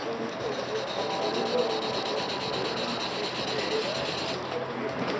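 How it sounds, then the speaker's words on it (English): Wet sanding car paint by hand with 1500 grit sandpaper, a steady close rubbing hiss with rhythmic back-and-forth scratchy strokes, continuous and fairly even throughout. "Let me sand that a little with some 1500 so you can see what I'm talking about."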